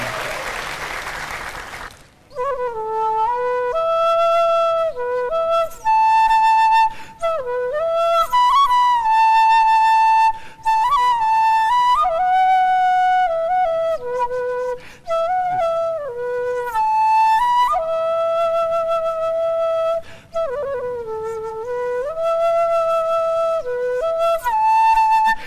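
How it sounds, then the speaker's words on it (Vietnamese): Flute playing a continuous, lively melody with bright sustained notes and quick ornamented runs, loud and close, alone after a brief noisy start. "Tiếng sáo là réo rắc lắm á nha, có thể là rung động lòng người ta đó."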